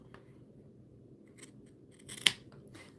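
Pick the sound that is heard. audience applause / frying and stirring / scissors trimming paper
scissors trimming paper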